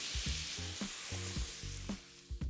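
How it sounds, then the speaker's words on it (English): Mushrooms fry in a mix of oil and butter in a pan, giving a steady close sizzle. Several short low knocks and clatters from the pan run through it. "Add the rest of your oil and butter to the pan and go in with the rest of your mushrooms."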